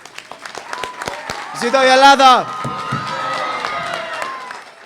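Audience at a Greek flag raising ceremony in Lowell, Massachusetts, gives brief clapping and cheering with a loud shout at the peak, between stretches of a speaker talking over a public address system.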